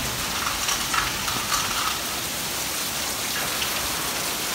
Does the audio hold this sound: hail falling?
yes